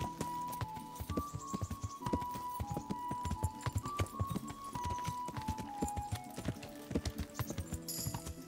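Hooves clip-clop at a steady trot as a horse is ridden in Kingdom Come: Deliverance, a close, rhythmic clatter with occasional tack jingles and no voices over it.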